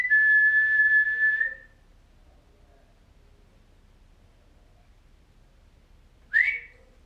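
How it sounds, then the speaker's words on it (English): A lone whistled tone inside a reputedly haunted old building: a steady held note lasting nearly two seconds, then a short rising whistle returns about six seconds later, separated by near silence. "I did hear a whistle then."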